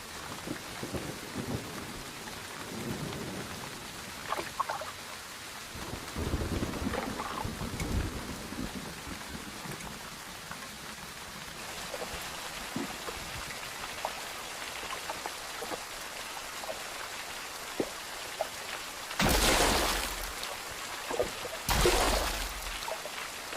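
Steady rain hisses throughout with scattered drips and patters, a low distant rumble rising now and then, and a couple of brief louder bursts near the end.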